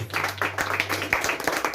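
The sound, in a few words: church congregation clapping in praise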